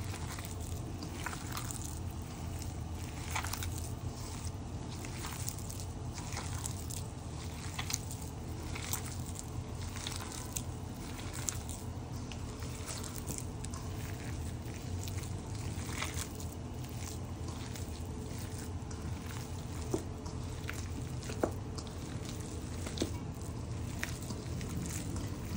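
Hands knead and squish minced beef for kabab in a bowl, a low continuous wet churning with soft repeated squelches and faint clicks, steady and close, with no talking.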